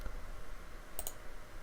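A computer mouse gives two quick, faint clicks in close succession against a low steady background hum, with no voices.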